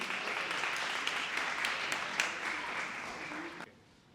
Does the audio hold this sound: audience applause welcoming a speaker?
yes